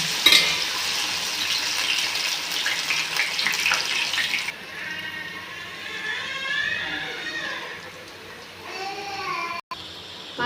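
An evening snack fries in hot oil with a steady crackling hiss that stays fairly quiet throughout, shifting partway through to softer bubbling, with a brief dropout near the end.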